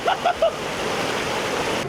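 Cold spring water pours down from above in a steady close rush, with a few brief chirpy sounds at the start and a short voice under the flow.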